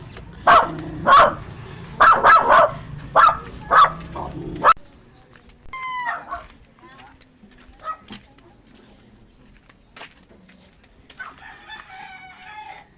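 A dog barks in short, loud bursts in the foreground, followed by quieter scattered sounds and what could be a bird calling faintly.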